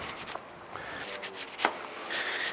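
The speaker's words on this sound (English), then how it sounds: "just cut from the end here" A knife cuts through food on a cutting board for White Castle-style sliders, making a few light, scattered taps and scrapes with one sharper chop near the middle, fairly quiet and close.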